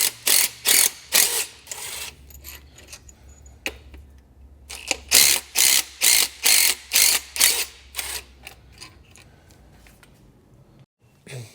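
A ratchet wrench backs out 15 mm alternator bolts on a Dodge Ram 1500 5.7L Hemi, giving rapid bursts of crisp clicking strokes in two runs separated by a pause, close and loud.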